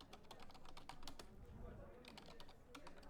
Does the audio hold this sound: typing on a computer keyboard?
yes